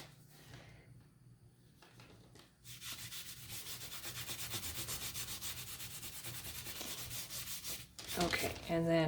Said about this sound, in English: turn that brush on its side so you can control where you're wiping